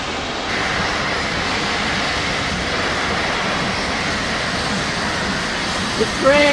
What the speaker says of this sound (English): The train's gonna come through there in a minute. It's gonna come through, it's coming now.